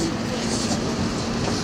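An R46 subway train on the Coney Island-bound F line rumbles loudly in motion, a steady roar with a droning hum inside the car and a voice partly beneath it.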